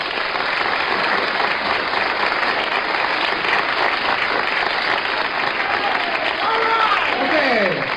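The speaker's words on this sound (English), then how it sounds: "We need a nice applause track right now." A live audience gives sustained, loud applause, a dense wash of clapping that holds evenly from start to finish, with faint voices and whoops mixed in near the end.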